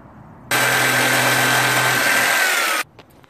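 A power tool whines loudly and steadily for about two seconds while cutting a wooden dowel, starting and stopping abruptly, close by with a quiet room before and after.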